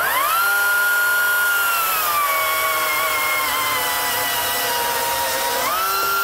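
Battery-powered chainsaw running steadily at a trade-show booth, a loud continuous whine that holds its pitch and then rises sharply near the end as the throttle opens again.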